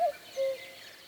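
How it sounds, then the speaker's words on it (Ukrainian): A common cuckoo gives its two-note call once, soft and somewhat distant, over a quiet forest background. "сіла на березу зазуля, і ви її зараз чуєте"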